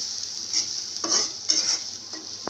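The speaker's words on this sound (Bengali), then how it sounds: "পেঁয়াজটাও আমি একটু হালকা ব্রাউন করে ভেজে নেব" Chopped onions and a green chili fry in a pan and are stirred: a close, bright sizzle runs throughout, with several soft scraping strokes and a sharp utensil tap at the very end.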